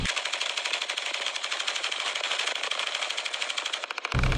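Machine gun fire rattles in a rapid, even stream of shots for about four seconds, loud and close, before cutting off abruptly.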